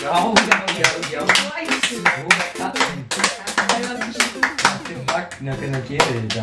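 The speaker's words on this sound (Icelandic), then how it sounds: "Þú mátt setjast og klappa fyrir mér." Hands clap in a lively, irregular burst during a playful home magic show, the claps close and sharp while people keep talking over them.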